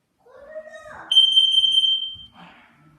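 A carbon monoxide detector under test sounds a loud, shrill, steady alarm tone for about a second. Voices are heard just before and just after it.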